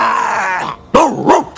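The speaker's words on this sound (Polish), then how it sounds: "jesteśmy Cerber, pies o... raz, dwa, trzy, trzech głowach" A cartoon three-headed dog, Cerberus, snarls and growls loudly up close in a rough, sustained rumble, then after a brief pause gives two more throaty growling bursts.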